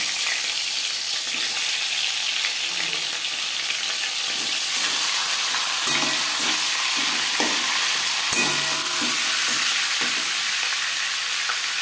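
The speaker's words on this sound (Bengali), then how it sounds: "4 চামচ রিফাইন্ড অয়েল গরম করে নেওয়ার পর দিয়ে দেবো মাছের মাথা।" Fish heads frying in four spoons of hot refined oil in a large kadai, a steady loud sizzle and crackle running throughout with occasional pops, no talking.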